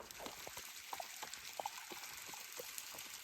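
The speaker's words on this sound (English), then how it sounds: "There's a little, not really waterfall, but almost a waterfall." Water from a small creek dropping over a little waterfall near springs outdoors: faint, continuous trickling and splashing with scattered bright drips, heard alone.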